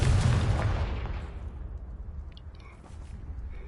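A Confringo spell blast in a Harry Potter video game sets off a loud, booming burst at the start, followed by a rumbling low tail that fades over a few seconds.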